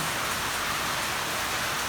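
Heavy rain pours down steadily and loudly, a dense unbroken hiss of drops on surfaces with no voices over it.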